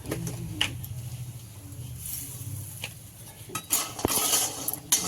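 Lentil bori fried in oil in a pan for shukto, stirred with a metal spatula that gives repeated clinks and scrapes against the pan over a low frying hiss, with no talking.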